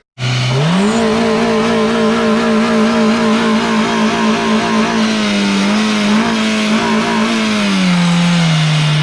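A Jeep engine revs up quickly, then holds a loud, steady, droning growl while driving off-road, its pitch sagging slightly near the end, close and dominant with no talking.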